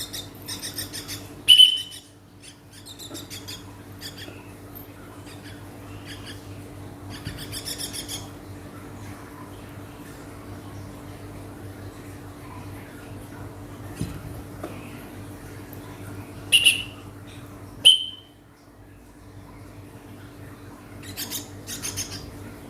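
Nias hill myna chick begging for food indoors: a few brief, sharp high-pitched chirps scattered across a quiet room hum, close to the microphone, with a couple of louder squeaks near the end.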